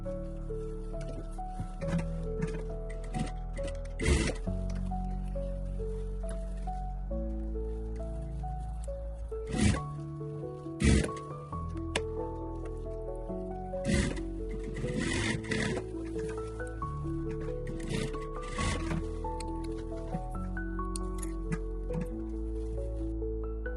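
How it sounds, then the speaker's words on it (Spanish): A sewing machine stitches boning rods into the bust-side seam allowance of a maternity wedding dress, running in a steady whirring hum with rhythmic needle clicks and short pauses, close and alone. "vamos a coser las varillas aquí en el margen de costura"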